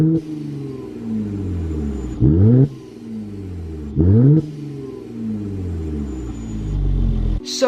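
A car engine fitted with an aftermarket exhaust, either an AWE Touring full system or a MagnaFlow cutout, revs up close through several loud rising pulls separated by brief drops, with a sharp burst at the end.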